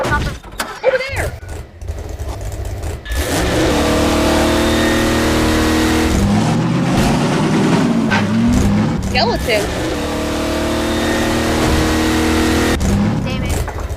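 A car engine revs steadily and loudly in a video game, with bursts of crash-like noise and a brief spoken word over the continuous droning engine.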